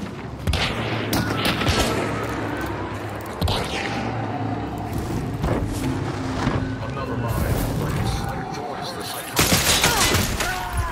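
Gunfire in a video game: repeated shots and bursts of fire with heavy booms, running continuously under players talking over it.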